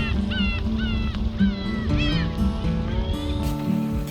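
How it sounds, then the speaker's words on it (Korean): Seagulls on a beach at low tide: repeated squawking calls rise and fall over a steady, noisy background, several birds calling in quick succession. "갈매기 소리만 들리는 아름다운 해변 풍경이에요"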